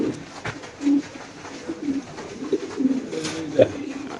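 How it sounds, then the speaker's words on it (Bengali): Several soft, low coos in short bursts from a large racing pigeon, close by, with faint background noise and some rustling. "এখানে আছে এক পিস কবুতর বড় সাইজের"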